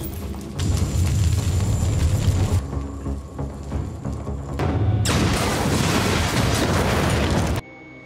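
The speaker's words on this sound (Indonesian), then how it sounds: "tiba-tiba terjadi ledakan." A sudden loud explosion in a film scene, a deep rumbling blast that fills the low end, dips briefly, then surges again with a second roaring burst before cutting off abruptly.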